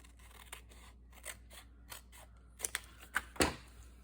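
Scissors snip through paper for a Halloween envelope flip journal, a series of crisp, close cuts, sparse at first and then quicker and louder toward the end, with no talking.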